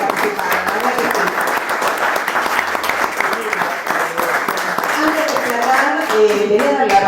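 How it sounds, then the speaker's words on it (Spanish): An audience at a political training seminar breaks into sustained applause, dense clapping that carries on with voices talking over and through it. "un aplauso para todos los que participaron"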